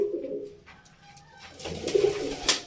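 Pigeons kept as a hobby flock coo softly at close range, a low rolling coo followed by a louder burst of cooing and a brief rustle near the end.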